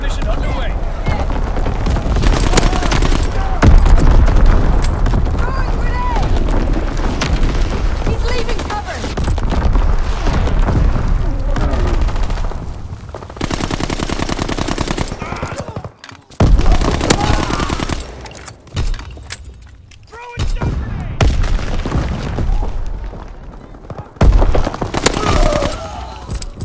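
Call of Duty: WWII match on the Shipment 1944 map, with dense bursts of automatic gunfire, heavy explosive booms from a bombing run and in-game voice callouts mixed throughout, loud and chaotic with brief lulls.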